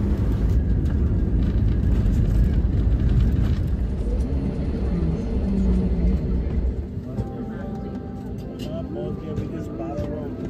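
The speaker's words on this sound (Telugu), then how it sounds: "ఇప్పుడైతే మనం బెంగళూరు ఎయిర్పోర్ట్లో ల్యాండ్ అవుతూ ఉన్నాము" Airliner cabin during a landing approach at Bangalore airport, with a loud, steady low engine and air rumble that eases partway through, and a person talking over it.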